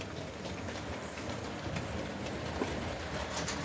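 A Hornby Black 5 model steam locomotive running over track points on a layout, giving a faint, continuous rolling rumble with small clicks as it passes through.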